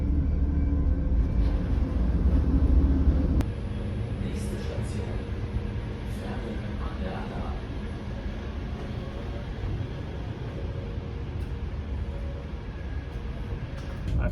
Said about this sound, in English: It's just me sitting in a train.